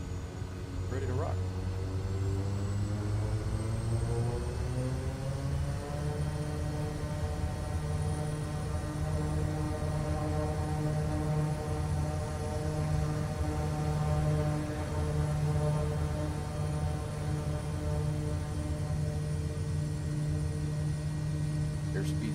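A Kodiak 100 single-engine turboprop in Microsoft Flight Simulator 2024 rolls for takeoff, its steady droning hum rising in pitch as power comes up, then holding a constant, even engine note throughout.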